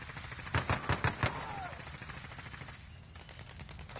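A quick run of five or six loud gunshots from a Bruen MK9 light machine gun in Call of Duty Modern Warfare 3, followed by quieter scattered shots and battle ambience, with a voice speaking briefly over it.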